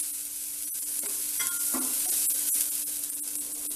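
Grated coconut frying in a pan while being stirred, with a steady soft sizzle and several sharp scrapes and clinks of the spoon against the pan.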